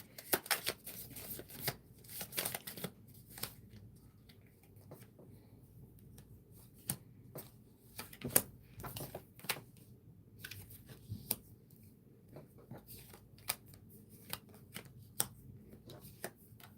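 Tarot cards are shuffled and drawn by hand, giving quiet irregular riffling flicks and soft slaps in bursts, close and fairly faint, with pauses between and no talking.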